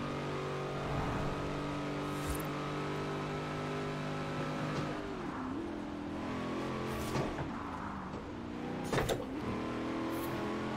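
A 700+ horsepower Corvette ZR1 in Forza Horizon 4 drives flat out, its engine a steady high-pitched drone with shifting tones as it revs and changes gear, plus a few sharp transient bursts.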